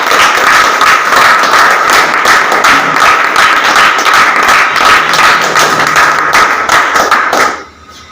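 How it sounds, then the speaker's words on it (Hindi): An audience gives loud, sustained applause at a speaking event, with dense clapping that continues for about seven seconds before dropping away. "मेरे गुरु मिस्टर धर्मराज पटेल जी के लिए जोरदार तालियां हो जाए।"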